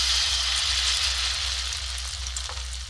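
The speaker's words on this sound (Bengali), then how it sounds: "অল্প অল্প তেলে আমি করব, ডিপ ফ্রাই করবো না" Bread pitha batter shallow-fries in a little oil in a pan, giving a steady soft sizzle with a faint hum underneath, continuous and fairly quiet with no talking.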